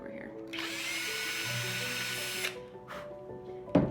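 A handheld power drill whirs steadily for about two seconds while boring a very small hole in a wreath, then winds down and stops, followed by a few faint handling knocks.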